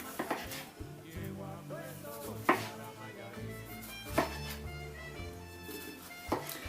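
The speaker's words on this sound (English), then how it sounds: "now we're going to dice tomato and half an onion" Knife chopping tomato and onion on a cutting board in a home kitchen for guacamole, a few distinct sharp knocks spaced a couple of seconds apart under quiet background music.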